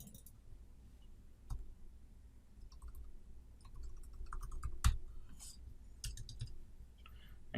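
Faint, sparse mouse clicks while a web form is set up in AEM Forms, with a sharper louder click near the middle over a quiet room hum.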